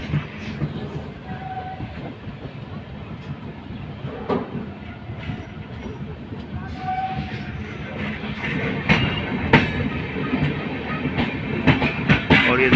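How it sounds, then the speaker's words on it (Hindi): The Janhit Express pulls into platform 4 at Barauni station with a steady rolling rumble and clatter that grows louder toward the end, with sharp clanks and a faint tone at times. "हमारी ट्रेन बरौनी के 4 नंबर प्लेटफॉर्म पर पहुंच रही है।"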